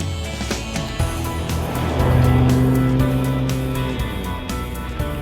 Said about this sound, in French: Nous prenons donc les commandes de la dernière compacte ultra sportive de chez BMW, la M2